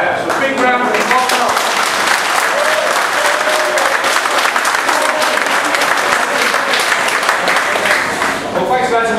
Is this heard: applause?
yes